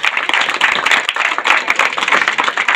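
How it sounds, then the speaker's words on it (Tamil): Audience at a school education welfare event clapping for a company donating bags, a loud sustained round of many hands with sharp individual claps standing out. "அவங்களுக்கு ஒரு நல்ல கைத்தட்டல்"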